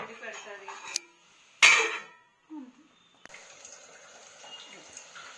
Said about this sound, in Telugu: గ్రేవీకి తగ్గ వాటర్.